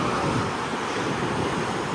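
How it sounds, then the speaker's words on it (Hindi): Cool wind blowing over a seaside cliff at Cap Spartel near Tangier, a steady, close rushing roar of wind buffeting the microphone, with a surf-like wash underneath and no voices. "यहाँ पे ठंडी हवा चल रही है लेकिन इतनी ज़्यादा नहीं है ठंडी।"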